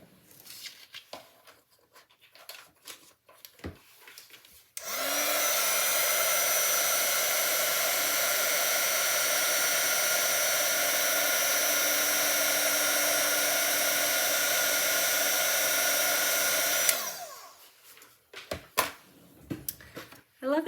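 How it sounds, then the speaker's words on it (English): A papercrafting heat tool blows hot air over a card in one loud, steady whir lasting about twelve seconds, framed by quiet tapping and handling noises before and after. "I love it when my heat tool is all warmed up, ready to go."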